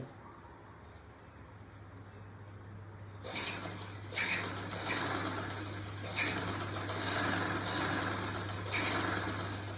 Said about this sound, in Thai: ย็บตรงเลยนะคะ เย็บตรงเลยนี่ค่ะ เย็บตรงแบบนี้นะคะ